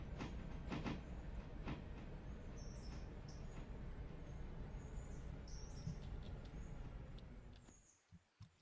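Passenger train running in the Railroader video game, a steady rumbling roll with faint rhythmic clatter and squeaks, fading away near the end.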